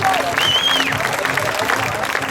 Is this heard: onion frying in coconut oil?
no